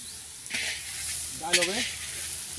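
Food fries in a pan while a cook makes dal, ghonto, fried papad and a potato curry for a small gathering. A steady, close sizzle runs throughout, with a brief voice breaking in halfway.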